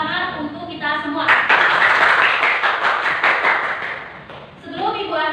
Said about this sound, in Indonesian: mari kita beri tepuk tangan untuk kita semua.